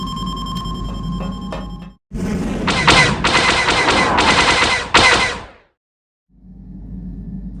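Rapid bursts of blaster-style turret fire from the Star Wars: Knights of the Old Republic video game rattle loudly as gunners shoot at Sith fighters, with a brief whoosh and a short silent gap.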